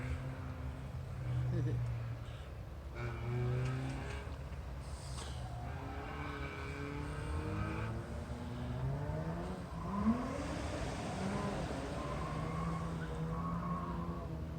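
A small race car drives through a chicane at a King of the Heap racing event, its engine a steady whirring drone with rises in revs, while people talk nearby throughout.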